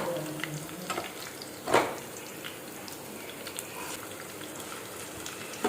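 Onion fries in a hot pan, a steady close sizzle broken by one brief clattering stir.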